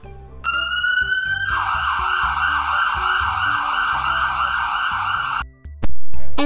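Fire rescue ambulance siren blaring loud and close, a steady tone shifting into a fast pulsing yelp that holds for several seconds before cutting off, with a light rhythmic beat beneath it.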